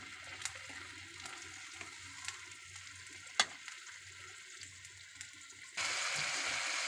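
Sliced snake gourd frying in a pan, a steady soft sizzle with scattered pops and crackles, ending in a louder broad hiss.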